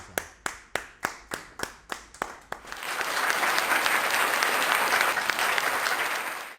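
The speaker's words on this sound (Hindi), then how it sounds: "जोरदार ताली के साथ" An audience at a Hindi poetry recital for a poet's introduction starts with about ten slow, sharp claps in rhythm, then swells into dense, sustained applause that fades out at the end.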